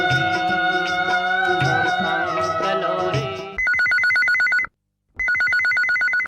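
Melodic tones play first, then a telephone rings loudly on a Chhattisgarhi-song phone-in radio show, with two electronic ring bursts of about a second each and a short silent gap between them.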